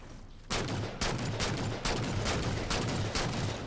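Rapid bursts of DMR rifle fire in the shooter game Halo 4, roughly six sharp shots in a steady rhythm, loud and close, over a constant din of in-game background noise.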